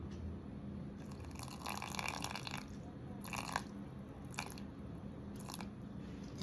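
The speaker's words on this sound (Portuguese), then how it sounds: "Vou pesar agora 30 gramas de água." Water poured in short bursts into a container for a sourdough levain starter, quiet close-up trickles with gaps between, no talking.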